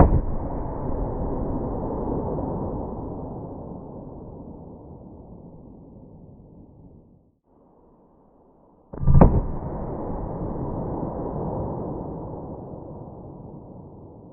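A 9mm full-size pistol with a 5-inch barrel fires a single sharp shot near the middle, standing out against steady wind-like noise outdoors.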